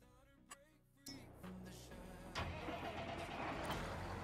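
A tractor in Farming Simulator 22 starts up with a few clicks and the starter cranking, then catches and settles into a steady rumbling idle that swells slightly louder, close by.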